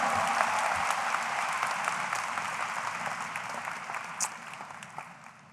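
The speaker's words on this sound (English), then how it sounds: "Give yourself some applause." Graduates at a university communication college commencement ceremony applaud in a sustained, dense round of clapping that fills the hall, then gradually tapers off, with a few scattered claps near the end.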